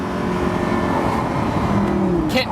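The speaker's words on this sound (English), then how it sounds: "Oh man, and then the downshifts." Lamborghini Gallardo LP550-2 with a naturally aspirated V10, heard close from inside as the engine drops through downshifts with rising and falling revs, a harsh sustained roar and a sharp blip near the end.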